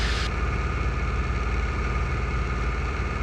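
Cessna 152 light aircraft piston engine running steadily at high power, a loud continuous drone with strong low harmonics and no breaks, heard from close inside the cockpit without talk.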